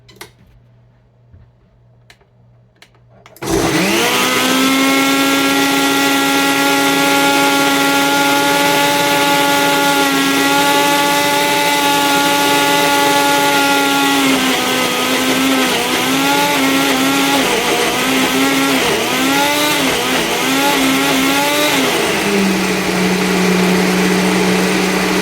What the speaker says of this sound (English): and then we will blend.